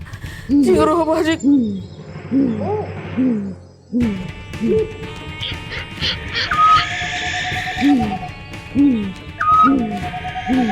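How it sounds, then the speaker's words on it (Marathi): An owl hoots over and over in a steady series of low, rounded calls, close and clear, with some background tones and rustling around the calls. "घुबडाचा आवाज आला"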